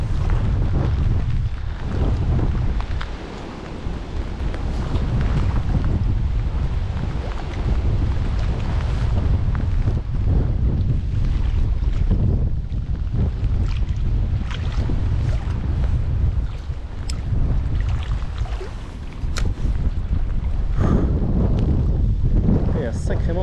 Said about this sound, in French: Il y a sacrément du vent.